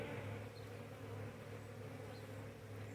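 Steady buzzing from many honey bees around their hive, a continuous droning hum close by, with no talking.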